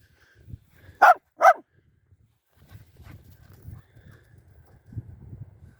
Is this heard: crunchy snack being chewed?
no